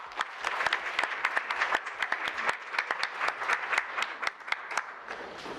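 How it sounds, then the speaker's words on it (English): A small city council meeting audience gives a short round of applause for a sole nominee, sparse distinct claps close by, steady for several seconds before thinning out. "let's still give him a round of applause"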